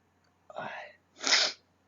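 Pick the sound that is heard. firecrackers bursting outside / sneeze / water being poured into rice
sneeze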